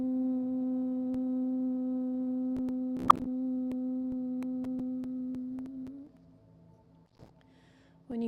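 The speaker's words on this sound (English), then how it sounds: "let it be a humming sound." A steady, sustained vocal hum on a slow exhale during a yoga breathing exercise, held evenly for about six seconds before fading into near silence, with one brief click partway through.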